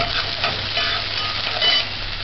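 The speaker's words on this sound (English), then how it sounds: "after you saute the onions," Onions sauté in a pan with a loud, close, continuous sizzle and crackle, lightly swelling as they are stirred, with no voices.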